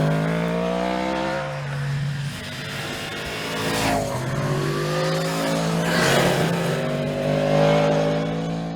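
Engine of a 2022 Yamaha MT10 SP motorcycle with a new airbox and induction and an up-and-down quick shifter, revving loud and near, its pitch rising through the gears with quick shifts and a throaty intake roar.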